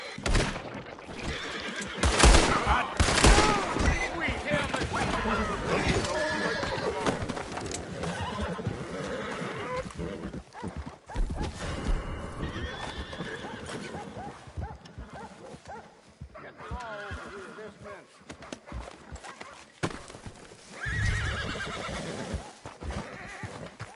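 Horse neighs and whinnies with hoofbeats and game sound effects in the open-world western video game Red Dead Redemption 2, loud and busy throughout with several whinny bursts.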